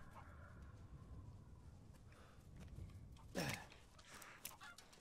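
Chicken clucking in the video game Resident Evil Village, a short squawk rising out of quiet ambient background noise, followed by a few fainter clucks.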